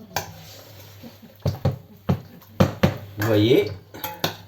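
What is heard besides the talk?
stirring carbonara so the egg yolk doesn't set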